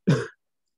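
A single short cough or throat clearing from a student in a chemistry classroom, close and brief, then silence.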